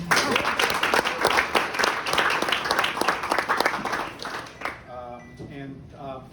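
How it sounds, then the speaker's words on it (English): Audience applause at a cancer center public service awards event, a dense round of clapping that fades out toward the end as a voice begins speaking over the tail. "Give him a round of applause."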